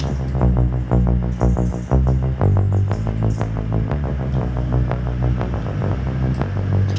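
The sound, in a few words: compressor in Reason 13 with fast attack popping at start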